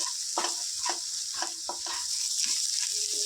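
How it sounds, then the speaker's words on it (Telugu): Eggs fry on high gas for a tamarind leaf egg curry, with a bright steady sizzle broken by rhythmic spatula taps and scrapes in the pan. "గ్యాస్ హైలో ఉంచుకొని వీటిని చక్కగా ఫ్రై చేసుకోవాలి"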